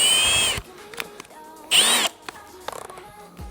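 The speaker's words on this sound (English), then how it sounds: "Blunt drill." A power drill with a blunt bit whirs in two short, loud bursts, with a straining, uneven grind between them and some faint clicks at the end.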